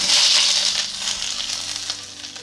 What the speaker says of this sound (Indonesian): Setelah minyak panas, kemudian goreng terong.